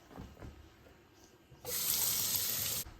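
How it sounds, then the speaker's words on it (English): A kitchen tap runs to rinse something off while making pho, a close, steady gush of water lasting just over a second, preceded by quiet handling knocks. "I will rinse this off"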